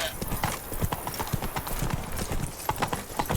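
Roach, Geralt's horse in The Witcher 3: Wild Hunt Blood and Wine, gallops with fast, rhythmic hoofbeats, close and loud, with a voice speaking briefly over the hooves.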